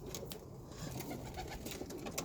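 Pet birds coo softly during a shower bath, their calls sitting under a steady hiss of running water that fills the background throughout, fairly quiet overall with no voices.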